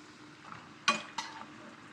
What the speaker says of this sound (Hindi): बस इसको हम हाई फ्लेम पे पका लेंगे, इतना हाई भी ना हो कि जल जाए।